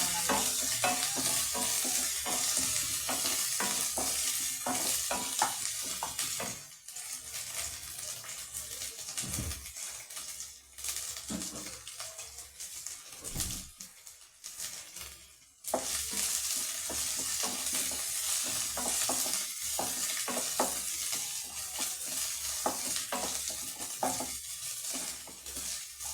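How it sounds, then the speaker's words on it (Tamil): Onions with ginger garlic paste sautéing in a pan for macaroni, a steady close sizzle and frying hiss broken by repeated scraping stirs, with a couple of brief quieter gaps. "ஜிஞ்சர் கார்லிக் பேஸ்ட்டு, இஞ்சி பூண்டு பேஸ்ட்டு போட்டு வெங்காயத்தில் நல்லா நல்லா வதக்கணும்."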